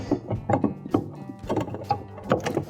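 A GE refrigerator ice maker slid over its mounting tabs, giving a string of close plastic knocks, clicks and scrapes in uneven bursts, with no talk.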